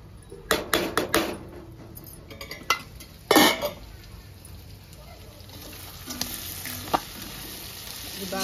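Goat tripe (boti) fries and gets stirred in a thick-bottomed pan, a steady sizzle running throughout with several sharp scraping, clattering stirs near the start and one loud clank in the middle.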